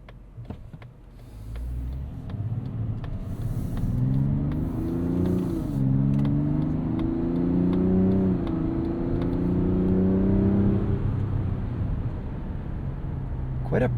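The 3.3-liter turbo inline-six of a 2025 Mazda CX-70 Turbo S SUV hums and rises in pitch as it accelerates, a steady, pronounced droning growl heard from inside the cabin.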